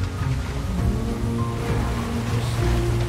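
In NieR Automata, water pours steadily from a sewer main like a waterfall, a continuous loud rushing wash with no breaks or talk.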